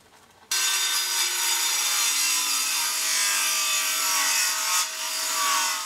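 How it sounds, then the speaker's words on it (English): A table saw rips through reclaimed plywood for a serving tray, making an angled 15-degree pass. A steady, loud, rasping whine starts abruptly after a brief quiet moment, holds at a constant level and dips slightly near the end, with no voices. "I have to make a couple of passes on the table saw, adjusting the fence as I go"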